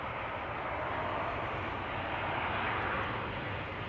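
A Cathay Pacific Cargo Boeing 747-8 arriving at Amsterdam Schiphol gives a steady, broad jet engine roar that swells slightly as the freighter passes. The sound is loud and continuous, with no voices.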